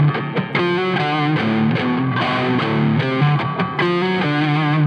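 A palm-muted, heavily distorted electric guitar in drop D tuning plays a chugging riff, loud and continuous with choppy muted notes.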